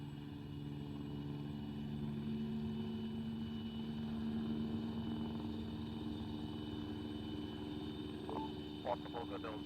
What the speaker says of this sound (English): All forces get ready to mount into the helicopter on LZ Med.